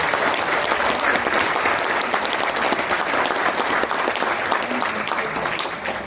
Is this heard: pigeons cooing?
no